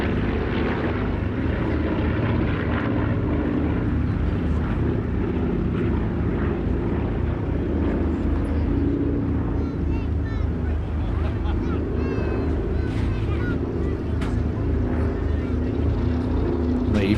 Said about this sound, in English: very powerful, very fast aircraft, the Invader.